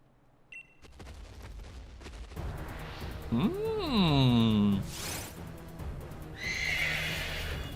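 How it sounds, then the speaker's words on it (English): In the Pokemon Sword & Shield game, a horse lets out a loud whinny that rises and then falls, surrounded by rhythmic clip-clop steps and crackling game effects. "Look at the horsey!"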